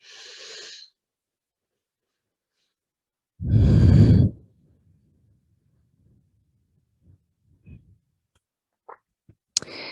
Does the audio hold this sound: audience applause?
no